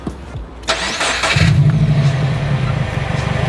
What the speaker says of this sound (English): let's start this thing up